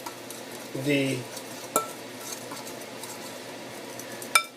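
Wet batter for chile rellenos being stirred in a bowl, a few scraping clinks of a utensil against the dish, brief and close, over a quiet kitchen background, with a voice speaking briefly.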